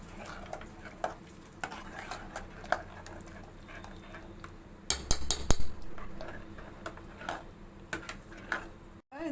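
Moong dal payasam being stirred in a pot, with quiet intermittent scrapes and light metallic clinks of a ladle, and a brief cluster of louder knocks midway.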